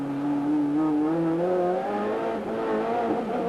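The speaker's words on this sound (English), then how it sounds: "The big problem with the Ford Sierra is narrow rubber and heaps of wheel spin." A 550-horsepower Ford Sierra race car engine revving hard as it accelerates out of a corner, a loud rising drone with strained, slipping tire noise from wheel spin.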